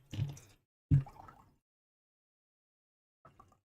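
Water is poured for a flat white coffee in two short splashy bursts close to the mic, followed by a long quiet gap and a faint trickle of drips near the end.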